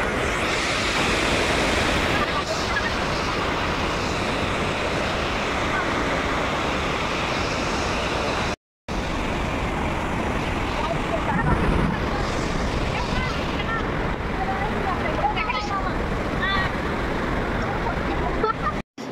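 Water rushes loudly and continuously at a temple in Odisha, a dense roaring wash with a brief cut partway through and no clear speech.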